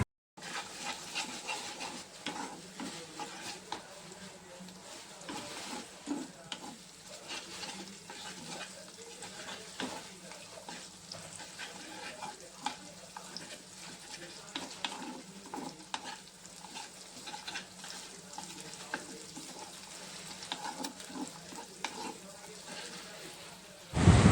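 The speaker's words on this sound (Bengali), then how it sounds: "আর এখানে আমি ভালো করেই পেঁয়াজ আর ডিমটাকে ভেজে নিয়েছি।" Onion and egg frying in a pan with a continuous close sizzle and repeated scraping strokes of a spatula stirring, running for a long stretch without talk.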